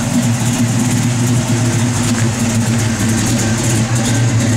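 A big-block V8 engine in a 1969 Chevrolet Camaro SS idles with a deep, lumpy rumble, loud and steady up close, no talking over it.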